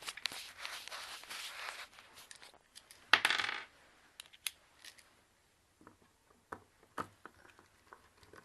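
Two small screws are set down on a work surface while a hard drive is assembled, producing light metallic clinks and taps up close, scattered among brief handling noises in a quiet room.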